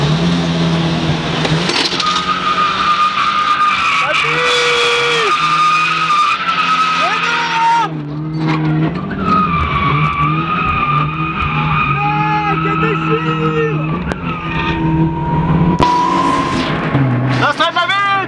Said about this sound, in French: Le premier vrai drift.